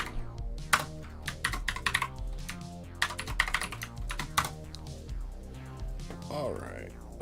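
Keys clatter on a computer keyboard during a stream setting up cPanel/WHM and SonicPanel on new servers, with bursts of rapid typing and brief pauses over a constant background hum.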